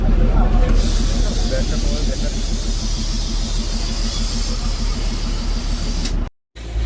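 The Darjeeling toy train passes at Batasia Loop with a loud, sustained hiss of steam over a low rumble, lasting several seconds before cutting off abruptly, with faint crowd murmur nearby.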